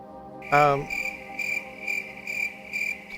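Steady, fairly close cricket chirping pulses in a regular rhythm, a continuous trill with evenly spaced bursts; a brief tonal voice-like sound enters near the start and fades quickly.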